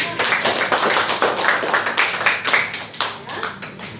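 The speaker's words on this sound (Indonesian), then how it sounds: "Oke, tepuk tangan teman-teman." A classroom of students claps together for several seconds, a dense, close patter of many hands with uneven bursts that fade toward the end.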